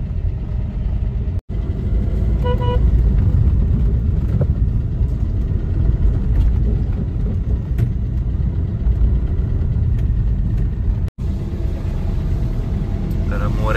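A Tata Punch car drives along a road. Its engine gives a steady low rumble alongside continuous road and wind noise inside the cabin, loud and unbroken apart from two brief dropouts.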